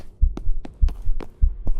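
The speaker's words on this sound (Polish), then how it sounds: "Bije serce, bije serce, to znaczy, że Rage jest uruchomiony." Video game heartbeat effect signalling a Rage mode, a loud close double thump repeating at a steady rhythm, about three beats across the clip, with nothing else heard.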